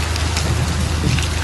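Steady heavy rain pours down in Spanish news footage of flooding, a dense continuous hiss of water with wind-like noise, loud and unbroken, no voices.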